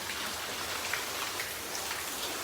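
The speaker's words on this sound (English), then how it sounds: "I'll go under the bridge here just to get out of the rain" Steady rain falls outdoors near a bridge, a dense even hiss of drops pattering on surfaces with no breaks, fairly loud and close, with no voices.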